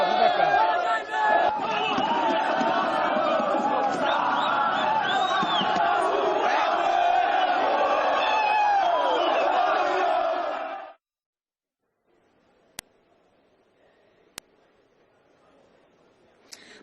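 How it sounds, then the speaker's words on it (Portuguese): Flamengo football fans in São Paulo roar and chant loudly as a dense crowd for about ten seconds, then the noise cuts to near silence broken by a couple of faint clicks. "Onde você vai jogar tem essa festa maravilhosa, uma torcida apaixonada"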